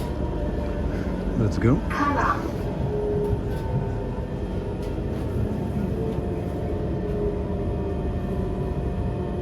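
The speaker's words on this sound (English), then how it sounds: "We are changing trains, the metro trains here." A Singapore metro train arrives at a station platform, producing a steady low rumble and hum with faint squeals throughout while people talk nearby.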